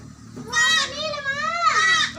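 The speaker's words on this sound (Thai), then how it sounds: "นี่ครับบรรยากาศคอกแพะ" Goats in a flooded pen bleat in long, wavering, high cries, two overlapping calls up close, while someone talks and water and background noise run underneath.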